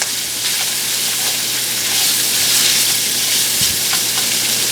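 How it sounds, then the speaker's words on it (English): Smoked sausage browns in a hot pan, giving a loud, close, continuous sizzling hiss with occasional light stirring clicks and no voices. "what I want is some browning on this meat"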